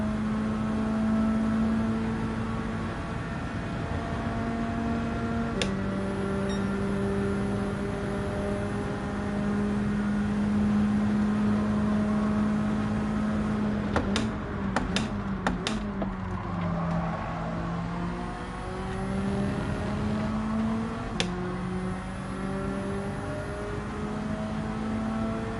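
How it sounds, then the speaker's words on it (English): Car engine in the Gran Turismo 7 racing game holding a steady, droning note that steps up in pitch a few times, with a short burst of sharp clicks and knocks partway through, loud and continuous with no talking. "Time to rev it."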